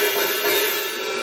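A hi-hat on a rock drum kit, played only barely open, makes a continuous hissing sizzle that holds at a fairly even level through the whole short stretch, with no voice over it.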